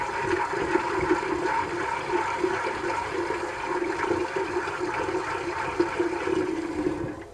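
Water pouring steadily into a container of soaked corn, a continuous splashing rush at moderate, fairly close level that runs unbroken for several seconds before ending abruptly.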